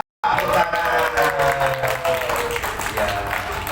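An Indonesian discussion-forum audience gives a warm round of applause for a North Jakarta community early-warning group, dense clapping starting abruptly and carrying on steadily throughout.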